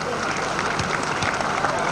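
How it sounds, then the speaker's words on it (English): A crowd at a rugby league ground claps as small boys run off the pitch after a 7-a-side half-time game. The applause is a brief, dense patter with a commentator talking over it. "Fairburn giving the small boys a clap as they run off after the 7-a-side game at half time"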